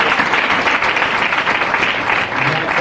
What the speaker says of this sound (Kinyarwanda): Amashyi Brenda.